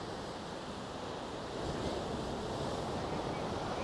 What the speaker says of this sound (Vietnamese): Biển hôm nay có vẻ sóng to.